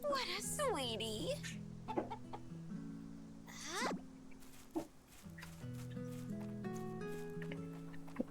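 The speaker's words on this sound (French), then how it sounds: "Mais ma poule, il faut que je la rentre." A chicken in the farming video game Story of Seasons: Grand Bazaar clucks in a few quick bursts over light background game music, with soft game sound effects around it and no voices.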